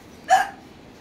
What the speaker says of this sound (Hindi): कल बोला इसलिए हिचकी चालू हो गया।